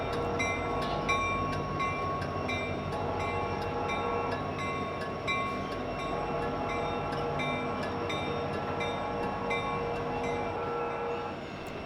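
Union Pacific heritage locomotive 1988 hauls an empty unit grain train on a short line, a steady rumble of engine and rolling wagons with rhythmic clicks of wheels over rail joints.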